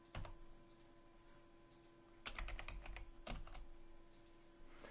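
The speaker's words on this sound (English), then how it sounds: "don't move your hands away from the keyboard and push the Tab key" Keystrokes on a computer keyboard while using photo web-album software, a few scattered clicks early on, then a quick cluster of taps and another short burst, close and crisp over a steady electrical hum.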